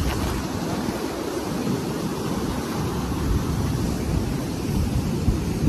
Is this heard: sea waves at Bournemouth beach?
yes